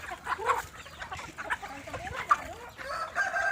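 Native free-range chickens on a farm in northern Cebu cluck and crow in a busy overlapping chorus, with several birds calling close by throughout.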